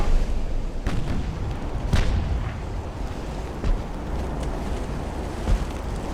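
Naval gunfire from 2-inch guns in the game Ultimate Admiral Dreadnoughts, a Russia versus Britain 1895 battle: a handful of sharp booming reports at irregular intervals over a steady rumbling sea-and-engine background, with no voices.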